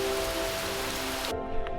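Steady rain pours down along a trail in the Austrian Alps, a dense, even hiss that cuts off abruptly partway through, leaving a faint low hum.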